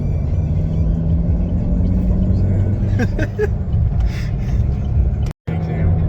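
A car engine drones loudly and steadily while climbing a hill in fourth gear behind a slow driver, with brief breathy vocal sounds over the continuous road rumble.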